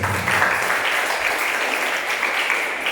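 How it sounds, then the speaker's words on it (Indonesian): Church congregation applauding in praise, a steady wash of many hands clapping together, fairly close and sustained throughout with no talking. "Tepuk tangan untuk Tuhan Yesus."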